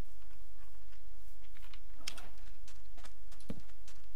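Keys tapped on a computer keyboard in irregular, sparse clicks against a steady low hum, with a couple of sharper presses standing out.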